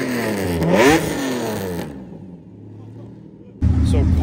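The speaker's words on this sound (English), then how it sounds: "Purple Diablo SE30." A purple Lamborghini Diablo SE30 revs loudly past on a busy street during Monterey Car Week, a rising engine wail that cuts off abruptly, followed by a quieter lull before another sharp burst of engine noise.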